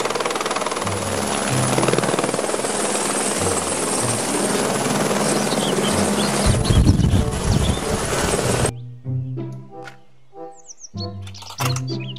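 Toy helicopter whirring loudly with a steady buzzing motor for most of the span, then cutting off into a series of electronic chirping toy sound effects.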